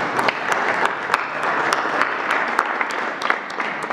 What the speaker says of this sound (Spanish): un aplauso a los gobernadores porque nos han ayudado